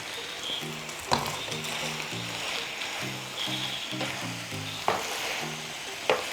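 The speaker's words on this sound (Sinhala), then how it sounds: "දැන් අපි මේකට මේ විදිහට පොඩ්ඩක් කලවම් කරගෙන බැදගත්ත ඉස්සෝ ටික එකතු කරගමු." Fried prawns for prawn devil sizzle in a hot pan while being stirred, with steady crackling frying and a few sharp scrapes of the utensil against the pan.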